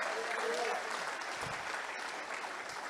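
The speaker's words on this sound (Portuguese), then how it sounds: "Quem vai aplaudir Ele e dar glória a Deus bem forte?" Congregation applauding during a sermon in a church, dense continuous clapping from a large crowd, loud and steady across the whole stretch.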